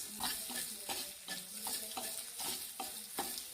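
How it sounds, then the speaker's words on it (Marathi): Ginger and garlic frying in a pan for a potato and okra masala, a steady sizzle broken by a regular rhythm of spatula stirring strokes, close and fairly quiet with no talking. "अद्रक लसूण हे पण एका बाजूला फ्राय करून घेते चांगले"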